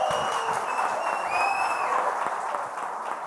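Sustained applause from a crowd at a municipal council ceremony, dense clapping with a few whistles and faint cheers rising over it, loud and steady before easing slightly at the end.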